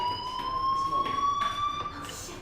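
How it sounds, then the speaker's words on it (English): A fire alarm rings in the Life is Strange video game, holding a steady, piercing electronic tone throughout with faint background noise beneath it. "do you hear that fire alarm? That means you should be outside."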